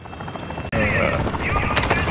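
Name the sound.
helicopter flying in a video game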